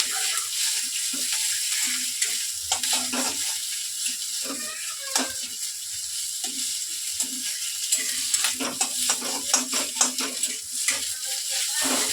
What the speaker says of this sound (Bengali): ডিমটা কড়াতে দিয়ে সাথে সাথে নাড়তে হবে, না নাড়লে এটা জমাট বেঁধে যাবে, এই কারণেই আমি সাথে সাথে এইভাবে জোরে জোরে নাড়ছি